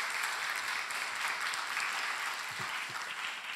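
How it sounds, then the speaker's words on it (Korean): Sustained applause from a forum audience for a speaker at an international arts education forum, a dense steady wash of clapping lasting throughout, with no voices over it. "큰 박수 부탁드리겠습니다."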